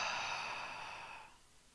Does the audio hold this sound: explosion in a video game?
no